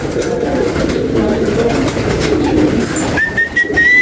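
Pigeons for sale coo steadily up close in a noisy bird market, their soft rolling calls continuous, with a thin whistle entering near the end.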